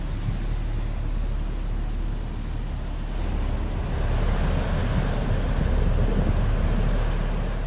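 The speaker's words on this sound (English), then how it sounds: "The water burst out with a loud sound while a tube well was being dug in a field" Water bursts out of the ground from a tube well being drilled in a field in Mohangarh, Jaisalmer, a loud, constant roaring rush that swells slightly toward the end with no voices.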